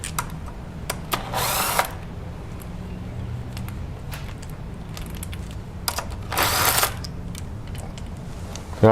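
Two short, loud bursts of an impact-style power tool breaking loose the crankshaft pulley bolts on a BMW X5, separated by a quieter workshop background.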